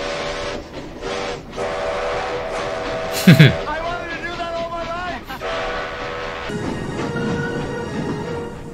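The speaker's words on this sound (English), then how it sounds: "Stop the train just before you hit switch track up ahead." A steam train in a Back to the Future Part III movie scene sounds a sharp steam whistle blast, loud and close, over continuous rumbling train noise and music, with people talking before and after.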